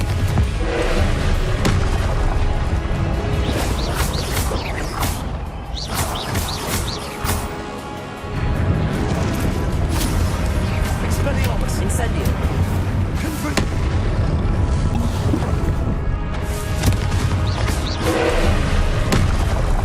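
Repeated Confringo fire-blast spell explosions in Hogwarts Legacy boom and crackle almost continuously, loud and dense, with a brief lull midway before the blasts resume, and a voice speaking over them.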